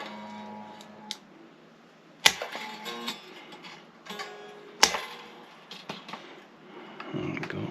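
Cutters snip through electric guitar strings, giving two sharp, loud clicks a few seconds apart amid faint metallic ringing and small handling noises, close by.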